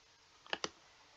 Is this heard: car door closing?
no